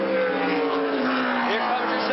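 A NASCAR stock car at the 1984 Goody's 500 roars by with a rising then falling engine whine, loud and close, under an announcer's voice.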